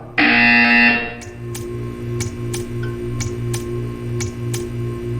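Loud electronic buzzer in the video game Portal 2, a single harsh tone of about a second, then a low pulsing hum with regular faint ticks continuing alone.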